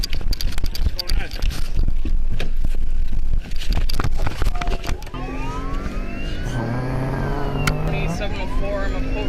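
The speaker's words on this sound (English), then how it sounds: "Ford does one thing well, and it's engine noise" A Ford police vehicle's engine revs hard and loud, a dense roaring drone under voices and radio chatter that eases into a steadier running sound partway through.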